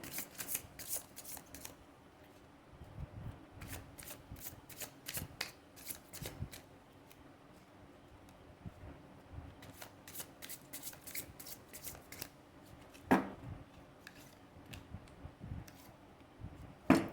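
Tarot cards are shuffled by hand nearby in quick, repeated riffling bursts with short pauses between, quiet and without any talking.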